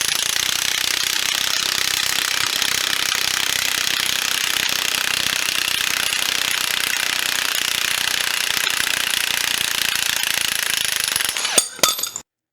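Impact wrench hammering continuously, loud and close, as it drives a wheel bearing out of the steering knuckle, a steady rattling roar that stops abruptly near the end with a few metallic clunks.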